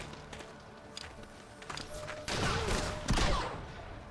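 Gunfire from a city defense and units at an enemy soldier in Civilization: Beyond Earth, a short burst of booming shots with a louder thud near the end, amid game ambience.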